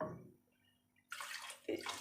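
Water being poured into a pot of mutton Shinwari karahi, two short splashing bursts separated by a quiet gap, close and fairly soft, with no talking.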